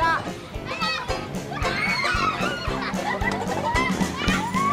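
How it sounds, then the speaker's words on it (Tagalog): Children play noisily outdoors near a hot air balloon attraction, with a dense, continuous mix of high voices, shouts and squeals and scattered thumps, fairly loud and busy throughout. "Play to the max na naman ang mga bata."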